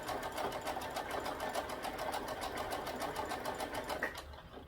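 A Brother SE1900 embroidery machine stitches a Christmas design directly onto a onesie, going back over earlier stitches, with a steady, rapid needle rhythm that runs continuously and close up, then eases near the end.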